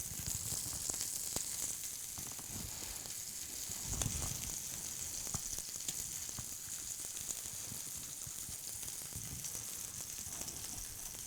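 Pork tenderloin sears in a hot pan with a steady, close sizzle and crackle. Small spits and pops break in now and then, and a few quiet kitchen knocks sit underneath. No one speaks.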